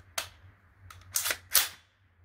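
Several sharp 9mm gunshots from a Schmeisser AR-15 rifle, fed from a Glock 26 magazine, crack at an outdoor range, one, then a pause, then a quick cluster of three, with a low hum between.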